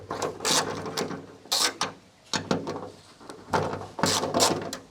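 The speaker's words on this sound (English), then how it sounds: "To take off the trunk lid, there's 4 bolts holding it. 1, 2, 3, 4. So you just undo it." A hand ratchet works loose the trunk lid bolts on an NB2 Mazda Miata in a junkyard, short bursts of clicking separated by pauses, close to the microphone and fairly quiet, with no talking.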